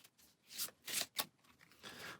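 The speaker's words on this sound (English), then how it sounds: "we'll give this stack of cards a shuffle" A stack of Elder Sign game cards is shuffled by hand on a table, giving three or four quick riffling bursts close up and soft, with light shuffling noise in between.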